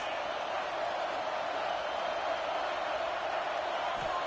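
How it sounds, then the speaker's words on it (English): Stadium crowd in the College Football 26 video game keeps up a steady, loud, continuous roar throughout, with no distinct breaks or individual voices standing out. "This crowd trying to make life miserable for this offense."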